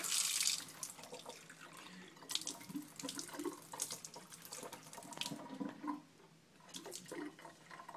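A tap runs steadily with splashing and sloshing as a toothbrush is rinsed under the water, with a few sharper clinks and knocks against a sink.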